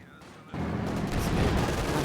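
MG42 machine gun fire in a competitive World War II strategy video game, a sudden burst of rapid, loud gunfire kicking in after a brief quiet lead-in and continuing as a dense rattle with booming impacts.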